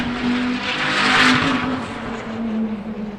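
A time attack race car at a motorsports festival track, its engine droning loud and steady at high revs through a flying lap, swelling briefly mid-pass then holding on.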